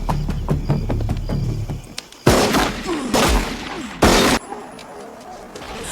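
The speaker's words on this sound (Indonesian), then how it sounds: "Ya, Tommy pun ditembak hingga tewas." Gunfire in a prison film scene where a man named Tommy is shot dead, with three loud, sharp gunshot bursts following a stretch of rhythmic tapping, each blast close and harsh with a ringing tail.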